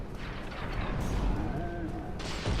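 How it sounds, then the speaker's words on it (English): Fire bomb explosions hurled by an enemy in Dark Souls Remastered, a rumbling blast and crackle under ongoing game noise, with a second burst near the end. "I don't want to have to worry about getting hit with the huge fire bombs that he throws, and it makes a lot of noise"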